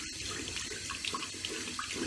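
A tap runs into a sink to wet a poly hairpiece, a quiet steady stream of splashing water with small bubbly flicks, heard alone and fairly close.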